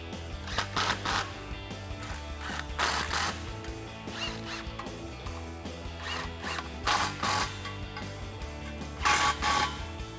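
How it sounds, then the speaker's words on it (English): A 15mm socket on a ratchet clicks in quick bursts while exhaust clamps are tightened on a Mustang GT cat-back install, the close, crisp ratcheting coming in several separate runs with short pauses between them. "grab your 15mm socket and tighten down your two clamps"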